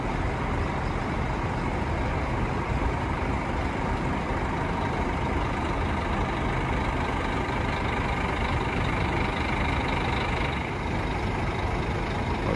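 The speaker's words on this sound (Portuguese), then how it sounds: "Motor Scania." A Scania bus engine idles at a bus station, a steady, dense diesel rumble with no break in its level and no voices.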